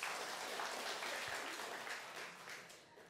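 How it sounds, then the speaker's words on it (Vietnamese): Game show studio audience applauding and cheering for contestants, a dense steady wash of clapping that stays loud throughout and eases off slightly toward the end. "hãy dành cho các thí sinh của chúng ta một tràng pháo tay cổ vũ thật nồng nhiệt"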